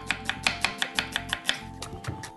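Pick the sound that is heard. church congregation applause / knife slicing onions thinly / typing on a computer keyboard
knife slicing onions thinly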